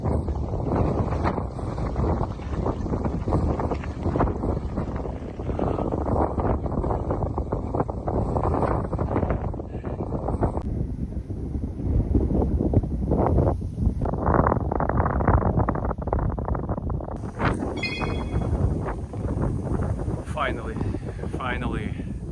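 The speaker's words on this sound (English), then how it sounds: "climbing with the headwind, it's brutal" Strong headwind roaring across the microphone while cycling on gravel near Calgary, a continuous loud buffeting rumble that never lets up, with some faint talk underneath.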